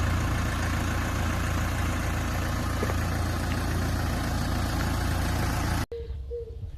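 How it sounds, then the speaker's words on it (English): Tractor engines rumble in a continuous, loud, steady drone of idling near a small caravan in Italy before the sound cuts abruptly to a quieter background. "they sit there and rev their engines"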